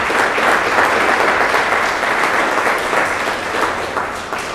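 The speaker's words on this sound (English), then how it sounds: "Y'all give her a round of applause." An audience applauds at a church Sabbath celebration, steady dense clapping filling the room for several seconds, loud and continuous, then easing slightly toward the end.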